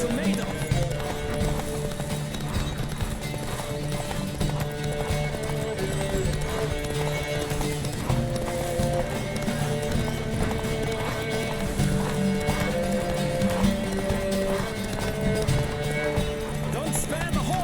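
Horse galloping in the video game The Witcher 3, a steady rapid clip-clop of hooves with running movement over game music, with a brief whinny possible, continuous and fairly loud throughout.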